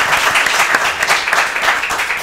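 An audience at a school team quiz competition breaks into a short burst of loud applause, with sharp individual claps rising and falling throughout the dense clatter.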